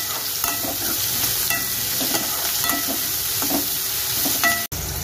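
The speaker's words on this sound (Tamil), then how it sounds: "நல்லா பொன்னிறமா வதக்கிக்கலாம்." Small onions sautéing in a pan for a mutton kulambu, a steady close sizzle broken by repeated scraping stirs of a spoon, with no talking.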